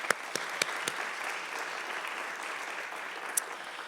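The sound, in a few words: applause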